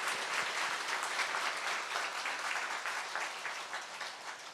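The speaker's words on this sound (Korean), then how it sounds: "Let's give a big hand to our elders of this church." A church congregation claps for its elders, a full, steady wash of applause from many hands that holds evenly throughout without any voices over it.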